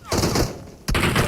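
Rapid bursts of video game gunfire, a dense rattling fusillade that stops briefly and then resumes, loud and continuous.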